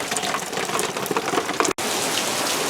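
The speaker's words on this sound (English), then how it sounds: "it did start raining a little harder right now" Rain falling on a desert backyard, growing heavier as wind blows it in: a dense, steady hiss of drops hitting the ground, continuous and close.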